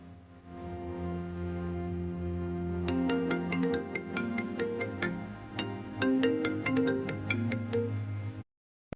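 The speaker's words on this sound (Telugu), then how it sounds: "రాధా గారు, హిమ ఫోన్ చేస్తుంది" A mobile phone ringtone plays for an incoming call in a Telugu TV serial scene. Sustained musical tones come first, then a run of bright plucked notes, loud and steady with no talk, before it cuts off abruptly.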